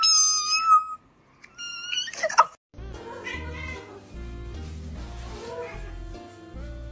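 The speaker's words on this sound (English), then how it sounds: "My cat's meow is so high-pitched" A pet cat gives a close, very high-pitched meow, and after a pause a second thin meow follows, before music with a heavy bass beat starts.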